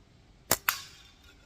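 A slingshot being shot, two sharp snapping cracks a fraction of a second apart, close and fairly loud against a quiet outdoor background.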